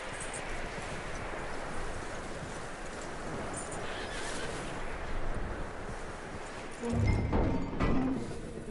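A horse in the Western game Red Dead Redemption 2 whinnies loudly near the end, over a steady bed of hoofbeats, rustling and ambient game noise.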